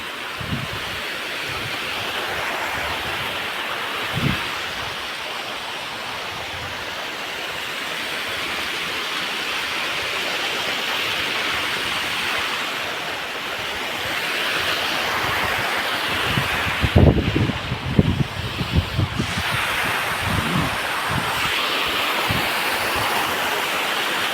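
Water pours steadily over a dam, a continuous broadband rush with wind buffeting the microphone and a brief louder gust near the end, with no voices.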